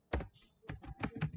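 Brief bursts of computer keyboard typing, several quick close keystrokes in two short clusters, quiet and dry with no talk.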